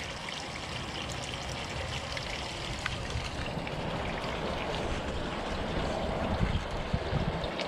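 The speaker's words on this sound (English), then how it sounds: "the bubbles are back" Water bubbling and trickling steadily as air gets drawn into a leaking water system outdoors, a continuous broadband gurgle heard close and alone at moderate level throughout.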